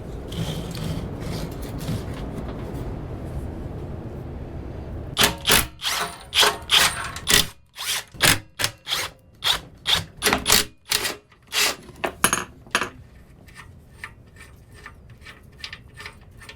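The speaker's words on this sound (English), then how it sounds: "let's pull the generator off and see about getting those feet off of here" Tools work on a generator to remove its mounting feet, first a steady scraping rumble, then a run of sharp rhythmic ratcheting clicks and rasps, close and distinct with no speech.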